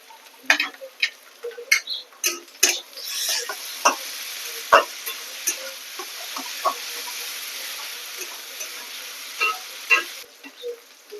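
Ginger paste, garlic paste and green chillies fry in a pan for a lightly spiced chicken curry, with a thin sizzle broken by sharp, irregular spatula taps and scrapes against the pot.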